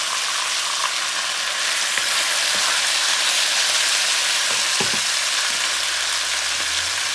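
Italian parsley dropped into a pan of osso buco (bison shank) that keeps up a steady, close sizzle and crackle throughout, with a few soft clicks of utensils against the pan.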